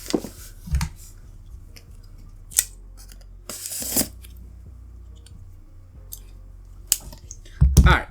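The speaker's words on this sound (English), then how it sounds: "we're done with all the untaping" Tape is peeled and torn off the bottom of an Xbox Series X box, a few sharp ripping and crackling bursts spread over several seconds, close and moderately loud with quieter handling noise in between.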